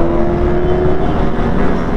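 Loud, steady roar of motorcycle engines echoing as they ride through a tunnel, a continuous droning rumble with no pauses.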